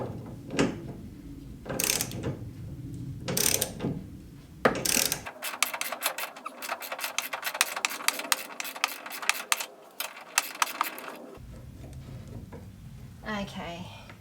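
A ratchet wrench clicks in a steady fast run as it unbolts the automatic door opener on a Toyota Coaster bus, close and clear, with handling knocks before and after.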